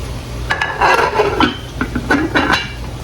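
Pigtails going into a pot of callaloo soup and a lid being set on top, a close run of clattering metal knocks, scrapes and rattles in quick bursts, no talking.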